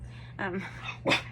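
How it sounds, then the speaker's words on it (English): A pet dog, a female, gives two short barks close by, the second sharper and louder, over a low background hum. "You'll hear her bark occasionally."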